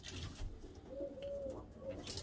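Pigeons coo softly in an aviary, a few low warbling calls drifting through a quiet background, faint and fairly close, with no voices.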